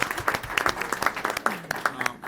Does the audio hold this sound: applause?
yes